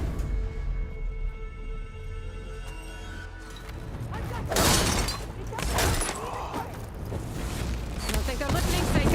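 Cannon fire in the Horizon Forbidden West video game: after a quieter mechanical stretch, loud shattering blasts and booms erupt and continue as a heavy, crashing barrage.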